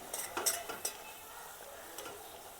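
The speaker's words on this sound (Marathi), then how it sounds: "बेसन टाकल्यावर लगेच आपल्याला असं परतून घ्यायचं आहे छान, म्हणजे गळे पडणार नाही" A spoon stirs gram flour (besan) in a pan while making methi zunka, giving a few soft scraping strokes with a light sizzle underneath, faint and close.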